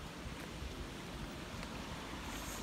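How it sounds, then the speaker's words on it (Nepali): Strong wind gusting across a microphone outdoors on a street with people walking about, a steady broadband roar that fills the whole clip with no talk. "एकदम हावाहुरी चलिरहेको छ यहाँ चाहिँ"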